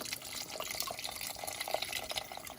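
Chicken broth pours into a pot of boiling greens as a steady, hissing, splashing stream that runs close and unbroken for a few seconds, with no voices.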